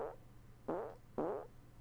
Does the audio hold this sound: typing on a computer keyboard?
no